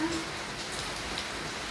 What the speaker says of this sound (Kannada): ಇಷ್ಟೊಂದು ಮಳೆ ಬರಕತ್ತೈತಿ